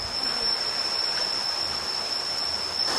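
Water flowing in a stream below a waterfall on a mountain trail near Bangkok makes a steady broadband rush, continuous and moderately loud, with an insect-like high whine above it.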